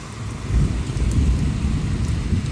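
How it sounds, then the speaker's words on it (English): Thunder rumbles through a June severe thunderstorm, a loud, steady low roar lasting the whole stretch with rain noise mixed in and no talking. "Nice rumble of thunder."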